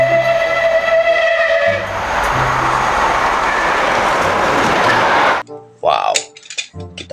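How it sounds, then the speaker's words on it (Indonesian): A toy steam locomotive train set whirs and rattles with grinding gears and a rising whoosh, then cuts off into clicks and a voice speaking. "Di sini ada satu rangkaian lokomotif kereta api uap."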